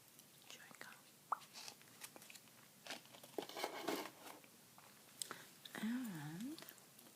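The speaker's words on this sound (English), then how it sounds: "Sugar-free gourmet chewing gum." Sugar-free gourmet chewing gum is chewed close to the microphone in a quiet ASMR setting, with soft wet smacks and crinkling mixed among whispered talk and a brief hummed tone near the end.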